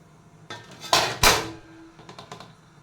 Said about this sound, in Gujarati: થાળી આપણે તપેલામાં મૂકી દઈશું